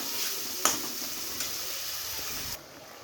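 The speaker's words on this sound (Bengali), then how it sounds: "টমেটোগুলো দিয়ে কষিয়ে নিব।" Tomatoes frying with spices in hot oil for a fish roe and brinjal curry make a close, continuous sizzle with a few sharp stirring knocks, easing slightly near the end.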